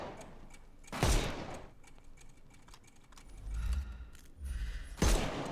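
Two sharp gunshots about four seconds apart in the video game Sherlock Holmes: Chapter One, fired at an enemy's armor, with quieter mechanical clatter and low rumbles between them.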